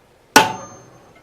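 One sharp metallic strike of a hammer on a punch marking metal, ringing briefly before fading into quiet.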